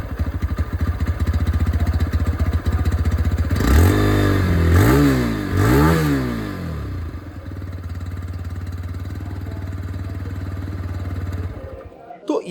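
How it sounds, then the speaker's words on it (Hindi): A 2025 TVS Raider 125 ABS motorcycle idles with a steady thumping exhaust, is revved sharply three times in quick succession, then settles back to idle before cutting off near the end. "इसका ही जो एग्जॉस्ट साउंड है वो मैं आप लोगों को सुना देता हूँ।"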